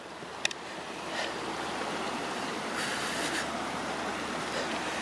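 A cold mountain river swollen with snow melt rushes steadily near Drumochter, a soft, continuous broadband wash of flowing water heard alone, with a small click near the start.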